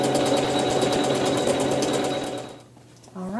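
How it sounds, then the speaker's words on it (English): A sewing machine runs a decorative stitch along curved edges, a loud, close, fast rhythmic whirring that holds steady, then stops near the end, leaving a brief quiet gap before a short sound at the close. "we're going to sew a decorative stitch along the top curved edges"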